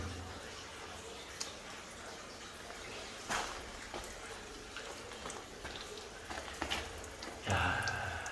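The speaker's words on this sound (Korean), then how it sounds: "물이 지금 차가운 물이 지금 뚝뚝 떨어지고 있습니다." Cold water dripping inside a limestone cave, a steady wet patter of drops over a constant damp background wash, with a few louder splashes standing out.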